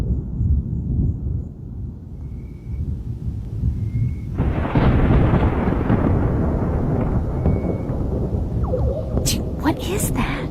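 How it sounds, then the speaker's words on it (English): Loud, strange thunder rolls during a morning hike in Fiji: a quiet low rumble that suddenly swells into a long, sustained, booming roar, with faint bird calls earlier and a few sharp crackles near the end. "I have never heard thunder like that"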